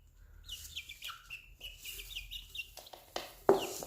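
Baby chickens chirping close by, with many short, high peeps in quick irregular bursts and a louder sharp call near the end.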